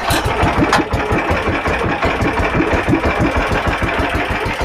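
An 18 hp gasoline boat engine with reduction gearing runs right after starting, a close, loud, rapid chugging with an even mechanical rhythm and no talking over it.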